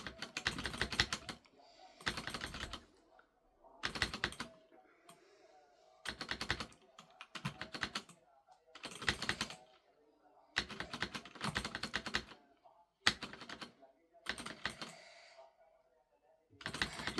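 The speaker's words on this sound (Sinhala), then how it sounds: "මගේ ලැප් එකේ කීබෝඩ් එකෙන් ප්ලේ කරලා බලන්න ඕනද" Close bursts of rapid laptop keyboard typing during gaming come in regular clusters of key clatter about a second long, separated by short quiet pauses, fairly soft overall.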